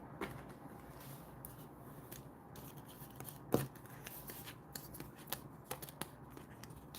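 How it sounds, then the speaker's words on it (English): Tarot cards shuffled and fanned out by hand with long nails, a quiet run of soft papery slides and flicks with one sharper snap near the middle, close and fairly faint, with no talking. "I want to fan the cards out a little bit."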